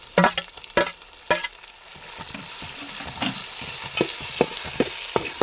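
Onion and tomato frying together in a pan for chicken dum biryani, a steady sizzle punctuated by a run of sharp spatula knocks and scrapes, close up and free of speech.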